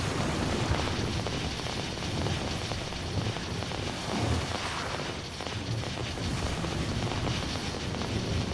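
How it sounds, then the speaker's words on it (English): In the video game God Eater Resurrection, an arriving helicopter gives a continuous, loud rotor thrum and engine drone that holds steady without a break and without voices. "The chopper should be here any moment."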